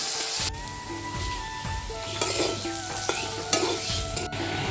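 Boiled potatoes fry for ghugni with dried red chilli and bay leaf while salt is stirred in. Repeated scraping strokes of a utensil sound over a steady, close sizzle, with some ringing metallic tones from the pan.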